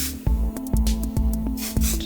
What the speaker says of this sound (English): I'm going to be using some of the Enjoy finishing spray.